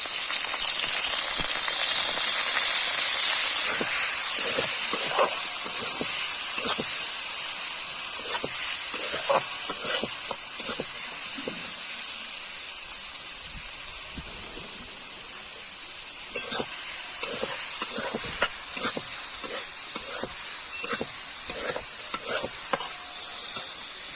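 Chopped onion with green chilli frying in hot oil in a village kitchen, a steady close sizzle and hiss with scraping stirs and clinks of a spoon against the pan, no voices.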